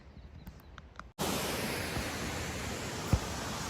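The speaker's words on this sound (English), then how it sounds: "I made it to the waterfall." A waterfall at Van Sickle Bi-State Park pours into a creek, a loud, steady broadband rush of falling water that starts abruptly and continues unbroken, with a brief knock partway through.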